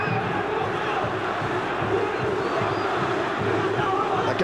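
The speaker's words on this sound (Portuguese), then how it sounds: "Jogadores se estranham, a torcida se irrita" A football stadium crowd at a 1999 Brazilian championship quarter-final between Vasco and Vitória grows restless and angry, a dense, continuous roar of voices and shouting that holds steady at a loud, even level throughout.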